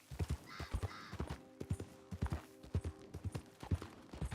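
Horse hooves clop at a steady, rhythmic gait in Red Dead Redemption 2, with distinct close hoofbeats repeating throughout, quiet overall, with a faint tonal hum in the middle.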